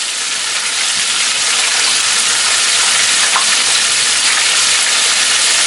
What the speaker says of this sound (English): Then we're going to get the next batch of fish ready while that's frying